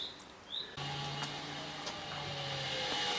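Stepper motor in a homemade CNC rotary table running on a long soak test, giving a steady faint whine with a low hum and faint periodic ticks, close by and alone.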